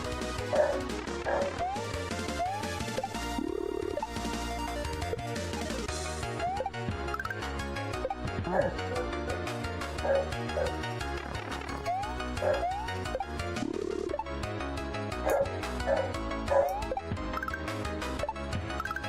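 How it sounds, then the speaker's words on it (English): Indoor dog barking, yipping and whimpering in short, intermittent bursts, mixed under loud, continuous video game music. "Buddy, there's nothing to bark at."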